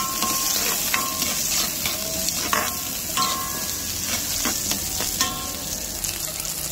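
Garlic and onion sauté in a pan with a steady bright sizzle, while a utensil stirs and scrapes at irregular intervals close by.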